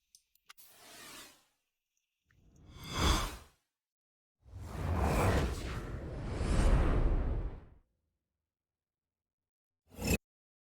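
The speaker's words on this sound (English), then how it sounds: "So let's hear the whooshes." Four designed whoosh sound effects from a sound-effects reel play one after another with silence between them: two short sweeps, a long swelling rush, then a brief sharp swish at the end.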